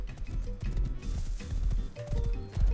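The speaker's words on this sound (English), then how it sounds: "My horse is getting stuck on little logs" Hooves of a horse ridden in a video game, trotting in quick, uneven clip-clop beats amid a busy layer of low game noise and rumble.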